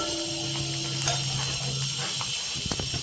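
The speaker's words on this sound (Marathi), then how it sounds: "आता गॅस फुल करून व्यवस्थित हिरवी मिरची आपल्याला परतून घ्यायची आहे" Chopped green chillies stir-frying in a pan over full gas, a soft steady sizzle with faint scraping stirs and a light hum underneath.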